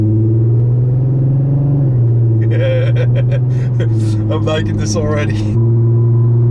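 A 2008 Volkswagen R32 gives a steady, loud low-pitched engine drone from inside the cabin while cruising, with a brief shift in pitch partway through, as someone talks over it.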